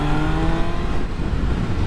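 Motorbike engine fitted with a new slip-on exhaust, a loud, steady, rough drone that holds through the whole moment with no talk over it.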